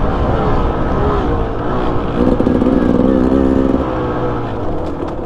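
A Beta Xtrainer 300 dirt bike engine pulls smoothly in third gear, loud and close, with a steady drone that rises briefly in pitch before settling.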